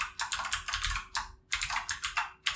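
Fast, steady typing on a computer keyboard while code is written for a Laravel 10 PHP e-commerce project, close and clear in bursts of rapid key clicks separated by short pauses, with no voice.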